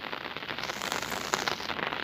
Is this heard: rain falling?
yes